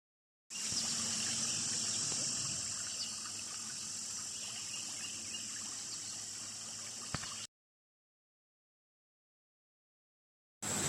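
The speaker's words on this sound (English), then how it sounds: "So I've made it to the creek." Spring-fed creek at Alley Spring in Missouri's Ozarks, flowing in a steady, close, full-bodied rush of water for several seconds before cutting out, with no one talking.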